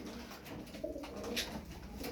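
Soft, low cooing of Turkish performing pigeons repeats close by against a faint background hum, with no voices.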